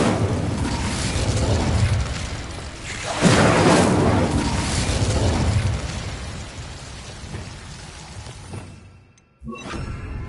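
The Incendio fire spell cast in Hogwarts Legacy, a loud whooshing burst of flame that swells, roars for several seconds, then fades out before a brief pop at the end.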